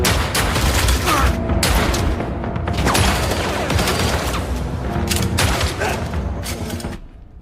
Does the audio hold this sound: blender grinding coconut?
no